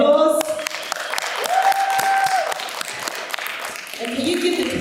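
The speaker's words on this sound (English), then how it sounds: "so can you give yourself a round of applause?" Audience applause at a kindness event, with a crowd clapping in a dense rattle over a hall's murmur and a few whoops, while a voice speaks over it.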